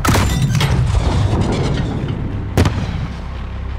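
Mortar fire in Call of Duty: Modern Warfare: heavy, rumbling booms with a sharp blast partway through, loud and close over a low battlefield roar.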